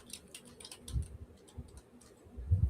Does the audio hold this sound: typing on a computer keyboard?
yes